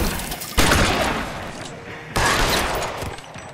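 Gunfire in a video game, two loud broadband bursts of shots or volleys, each starting abruptly and trailing off over about a second and a half, with no other sounds.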